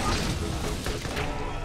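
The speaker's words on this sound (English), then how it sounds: "Explosions everywhere." Explosions in the Borderlands video game: a dense, continuous barrage of crashing blasts and booming thuds fills the whole moment, loud and chaotic with no clear gaps.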